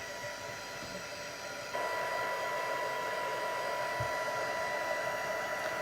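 A handheld hair dryer switches on partway through and blows a steady, close, high whooshing stream of air to dry an air-dry clay mandala.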